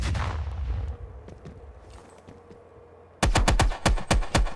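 Rapid rifle gunfire in Call of Duty Black Ops Cold War, a loud burst of about eight close shots in quick succession, following a quieter stretch of game ambience and distant rumble.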